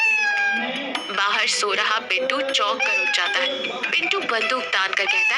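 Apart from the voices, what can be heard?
cat meowing loudly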